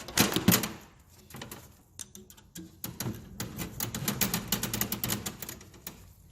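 Rapid, loud mechanical clicking and rattling while a fitting on a Nissan 350Z is tightened, likely a ratchet, with dense bursts and short pauses and a louder stretch toward the end, without talk.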